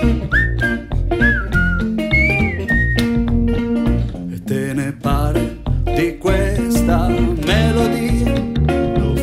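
A person whistles a bright melody over a full, dense musical accompaniment, the whistled line rising and falling in short phrases throughout.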